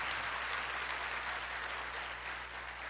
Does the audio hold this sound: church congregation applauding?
yes